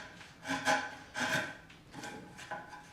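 A rasp shaping the curved wooden heel of a guitar neck, three or four close, steady scraping strokes in an even back-and-forth rhythm, with no talk.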